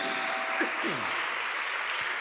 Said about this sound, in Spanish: Dale fuerte ese aplauso a Él